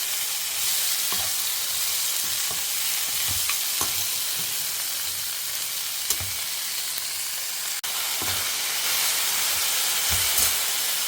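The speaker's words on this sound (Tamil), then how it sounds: "கொஞ்சம் நேரம் இது வதங்கட்டும், அப்புறம் தக்காளி ஆட் பண்ணிக்கலாம்." Onions sauté with a teaspoon of rock salt in a pan for garlic thokku, a steady close sizzle and hiss with occasional light stirring clicks and scrapes, heard alone.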